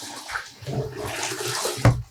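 Dark black dye water splashes and pours out nearby, a steady rushing stream that ends with a brief louder splash.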